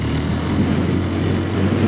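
Steady, loud engine drone from a 2026 Yezdi Scrambler with the new Katar engine while riding, a continuous low hum and rumble holding even throughout with no talk.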